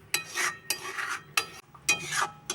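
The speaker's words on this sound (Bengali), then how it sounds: "আমি এইভাবে এখন এই জলটা মারার জন্য গ্যাসটা সিমে দিয়ে এইভাবে খুন্তিটা নেড়ে যাব।" A metal spatula scrapes and stirs through thickening date-palm jaggery sandesh mixture in a pan over low gas, four distinct sweeping strokes in a steady rhythm, close and fairly quiet, with no voices.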